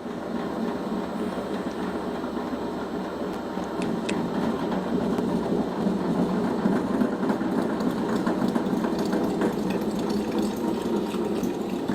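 A pump machine drawing thick maple taffy down through it runs with a steady, loud mechanical hum and churn, continuous and close throughout.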